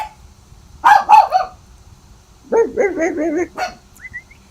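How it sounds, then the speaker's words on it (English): A small dog barks nearby in two short bursts of yapping, several quick high barks, then a pause, then a second cluster of barks, with faint room noise and no talking. "Would you shut up? Here, puppy, puppy, puppy."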